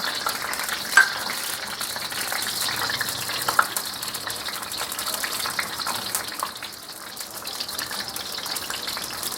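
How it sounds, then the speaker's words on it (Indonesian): Chili peppers fry in hot oil for Lamongan-style sambal, giving a steady close sizzling hiss with faint stirring clinks throughout and no talk. "Nah, ini cabainya saya goreng."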